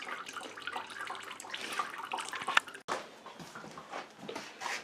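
Fermented grain mash liquid draining through a sieve bucket, a steady trickling and splashing water sound with small drips, fairly close, briefly cut off then resuming.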